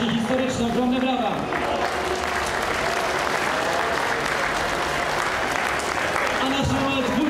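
A crowd at a political rally in Płock breaks into loud, sustained applause after a parliamentary candidate is introduced, with a voice talking briefly at the start and end over the clapping.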